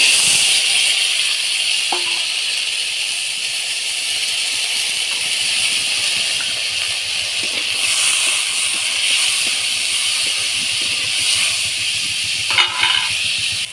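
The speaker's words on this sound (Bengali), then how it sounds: "ওই একই কড়াইতে আমি শিম বিচিগুলো দিয়ে দেব।" Hyacinth bean seeds fry in a wok, giving a steady, loud, broad hiss and sizzle that lasts the whole time. A few faint clinks cut through it, and there is no speech.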